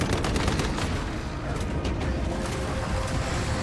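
Dense, continuous gunfire erupts in the survival shooter Once Human, rapid overlapping shots forming a loud, unbroken barrage during a fight in a research lab.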